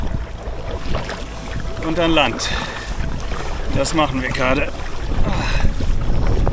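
Strong wind gusts over a lake during a canoe trip, a steady roaring rush buffeting the microphone, while people talk in German close by.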